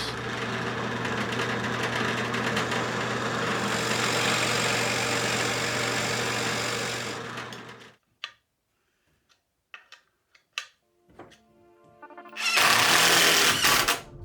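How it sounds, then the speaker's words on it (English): A power drill whirs steadily for several seconds while counterboring wood for a T-nut, then stops; a few light clicks and taps follow before the drill spins up again loudly. "I can drill a counterbore for the T-nut to fit in"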